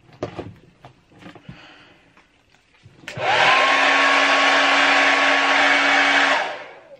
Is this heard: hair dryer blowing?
yes